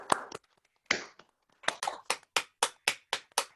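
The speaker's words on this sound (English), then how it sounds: "please give a round of applause for Grahame for the first one" Participants in an online lunchtime lightning-talk meeting unmute and clap. A few scattered claps come first, then a run of evenly spaced, crisp single claps from what sounds like one or two people on microphones.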